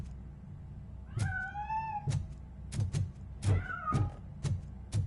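A cat meows in the video game RoboCop: Rogue City, two drawn-out cries a couple of seconds apart, set against steady heavy footsteps thudding nearby.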